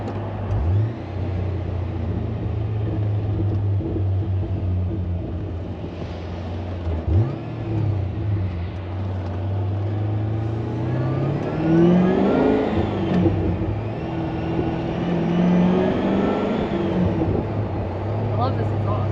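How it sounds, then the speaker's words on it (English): Pontiac GTO engine and exhaust while driving on the road: a steady mid-pitched engine drone that rises and falls as the car revs and accelerates, with a low exhaust rumble throughout and occasional speech from the occupants over it. "I love this exhaust. Yeah, the exhaust is nice and quiet."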